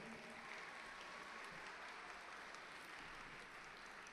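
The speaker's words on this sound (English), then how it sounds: "why don't you give yourselves one another big round of applause?" Graduates and their audience applaud at a university commencement ceremony, a dense, steady wash of clapping, faint and distant, with no pauses.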